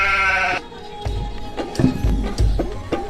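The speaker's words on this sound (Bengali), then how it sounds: "এ না ছাগল খাবার দি" A goat bleats loudly and close by in a wavering cry, followed by a few shorter, rougher bleats and calls.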